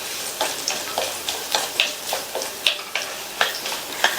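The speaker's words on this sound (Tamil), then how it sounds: "கூடவே 5-6 மிளகையும் சேர்த்து வறுத்துக்கங்க." Ginger, garlic and five or six peppercorns fry in a pan, a bright continuous sizzle broken by rhythmic stirring scrapes roughly every half second, close and loud with no talk.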